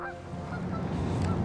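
Geese honk steadily at a distance as a flock of wild geese, including a Ross's goose, calls across open ground with no talk.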